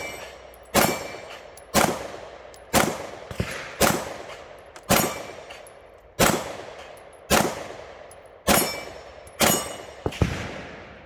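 Springfield Armory XDM Elite 9mm pistol fired outdoors in a slow steady string of about ten loud, sharp gunshots, each with a short ringing decay, spaced roughly a second apart.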